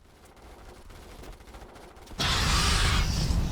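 Air strike in the Starship Troopers: Terran Command battle game, a quiet stretch of rumbling battlefield ambience that suddenly erupts at about two seconds into a loud, sustained, dense roar of rapid gunfire and explosions.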